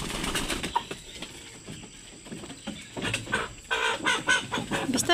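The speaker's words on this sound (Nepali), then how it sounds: "निस्के त ठुलो भाले" A big rooster and chickens at a Sikkim village home cluck and call in irregular bursts. The sounds are moderately close and grow busier toward the end, with scattered knocks and rustling.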